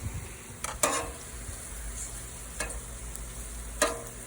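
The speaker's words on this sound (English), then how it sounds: "And now I'm dipping the bacon in there, letting some of it drain off, and then putting it on a skillet." Syrup-coated bacon fries in a skillet on a griddle over low heat, giving a soft, steady sizzle broken by a few sharp clicks and clatters of a utensil.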